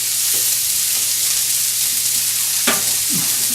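Onions frying in butter in a skillet give a continuous bright sizzle with a few scraping stirs and clinks, close and steady, with no voices.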